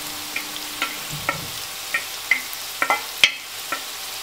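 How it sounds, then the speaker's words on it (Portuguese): Ground beef and tomato sizzle steadily in a pan, a constant frying hiss punctuated by regular clacks of a spoon stirring against the pan, close up with no talk. "Deixamos aqui um pouco e seguimos refogando."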